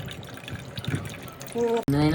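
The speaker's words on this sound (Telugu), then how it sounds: "వాటర్ చాలా ఎక్కువ వస్తున్నాయి" Water pours from a coconut through a coconut opener into a container, a short wet trickle that turns into a fuller, ringing filling sound near the end, with a voice talking early on.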